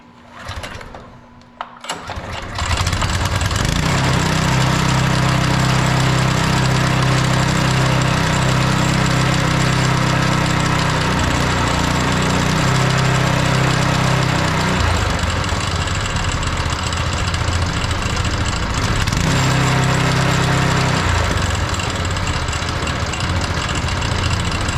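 A small engine, choked with the fuel turned on, catches after a brief quiet start and then runs steadily and loudly for about twenty seconds, its droning idle shifting slightly in pitch.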